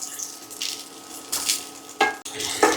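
Small shallots sizzling in hot oil in a pan for Tamil Nadu style kara chutney, a steady close frying hiss with brief louder bursts as they are stirred, no voices.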